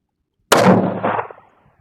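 .308 rifle fired at an outdoor range in a crosswind: a single loud, sharp shot with a booming report that decays over about a second, alone with no voices.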